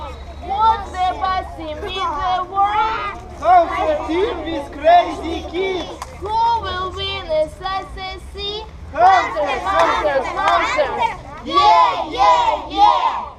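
Children at a summer camp shout their team chant together in loud, rhythmic bursts, a group of young voices yelling in unison with short pauses between phrases.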